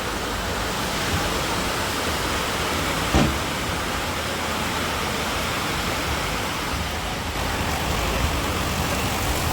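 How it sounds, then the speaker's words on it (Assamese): Heavy rain pours down at Karimganj, making a dense, continuous roar of falling water that stays loud and even from start to finish. "বৰষুণ দি আছে আমাৰ কৰিমগঞ্জত দেখা পাইছে"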